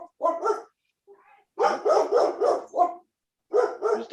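Several dogs bark in bursts near the microphone, with a quick volley early on, a longer run of loud barks in the middle and a few more at the end. A brief whimper or yip falls in one of the gaps.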